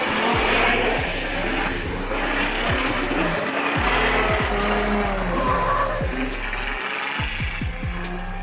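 A tuned BMW drift car makes its debut run on a steep, high-elevation race track, its engine roaring loudly and close with shifting revs while the tires squeal and skid continuously.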